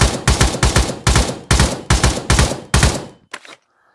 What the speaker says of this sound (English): So let's do some short control bursts, and then I'll go single fire.